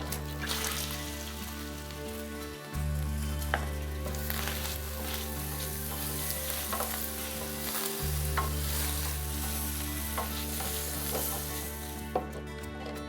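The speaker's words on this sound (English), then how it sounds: "Another technique when using a rack is to saute the mirepoix in the drippings." Mirepoix sautés in roast drippings in a roasting pan, giving a continuous crackling sizzle with repeated stirring scrapes over a low background hum.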